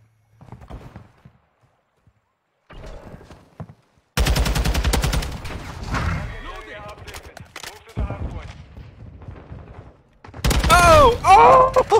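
Sniper gunfire in a video game: sharp bursts of shots ring out twice, a dense volley in the middle and another near the end, separated by quieter stretches of game sound, with a voice talking over parts of it.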